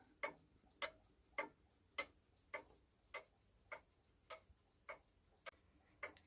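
Gustav Becker box clock ticking alone in a quiet room, about eleven crisp, evenly spaced ticks, close and fairly faint.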